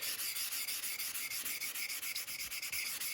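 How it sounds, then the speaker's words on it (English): 800-grit sandpaper rubs in quick, even straight strokes over a 1982 Honda CB900F engine part, a close, steady rhythmic rasping that stays loud and alone throughout. "take your 800 and just start sanding."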